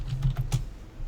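A few quick keystrokes on a computer keyboard during a live cyclone broadcast, four or five soft close clicks in a short burst, then a quiet pause over a low hum, with no talking.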